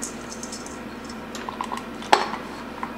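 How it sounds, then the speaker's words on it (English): Walnuts worked by hand into a crumbly rhubarb bar crust in a bowl, giving soft close rustling and crumbling with a few light taps and one sharp clink against the dish, no voices. "mix it in till it's all combined and crumbly"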